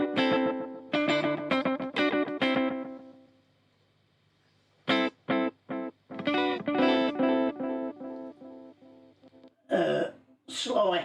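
Electric guitar played through the analog-type effect of a BOSS ME-50 multi-effects pedal, short bursts of warm, slightly gritty chords and notes broken by pauses and a stretch of near silence.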